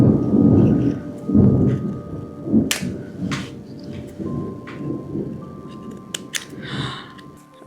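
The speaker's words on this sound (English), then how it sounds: "There's so much thunder out there." Thunder rumbles outside during a storm, a low heavy roll that swells and fades through most of the stretch, with faint rain and scattered sharper crackles above it; no one speaks.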